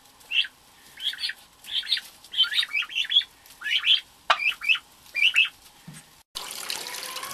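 Young turkey poults give clusters of high chirps and peeps near a farmyard in winter, close and distinct against a quiet background. Near the end a sudden wash of running water replaces the calls.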